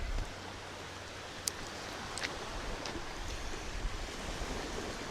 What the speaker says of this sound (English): you can hear the waves in the background